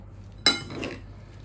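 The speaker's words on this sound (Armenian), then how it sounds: "Լավ խառնում ենք։" Chimichurri sauce with salt, pepper and oil being stirred in a bowl: one sharp clink of a utensil against the bowl, then a brief soft scraping swirl that fades, with no voices.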